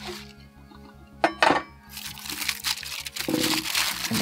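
Aluminium foil crinkling as it is peeled off a rested côte de boeuf, in sharp crackly bursts with clinks of cutlery, over a steady low background hum.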